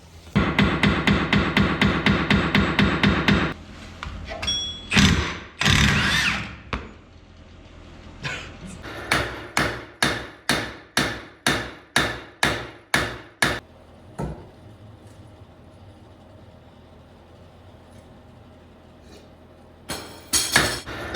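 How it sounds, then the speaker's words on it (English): Chisels are hammered to free a stuck rear axle stub on a BMW E46, giving loud metallic blows: a rapid ringing burst, then a steady run of about a dozen evenly spaced strikes, a pause, and a final few hits. "your boy has been beating on this thing trying to get this axle stub out, and she's not having it."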